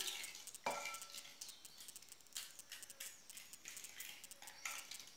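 Spoon stirring yeast and sugar into warm water in a bowl while making corn bread, a series of quiet scraping clinks with one sharper knock near the start, close and fairly faint with no talking.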